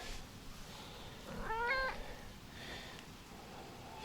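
A cat meows once, a short rising-falling call over a quiet room background, followed by faint soft rustling.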